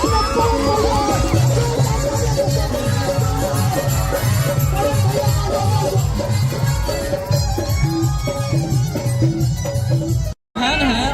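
Large crowd at a live stage show by Bhojpuri singers in Aurangabad, a loud, dense roar of cheering and chatter over amplified music, continuous throughout with a brief dropout near the end.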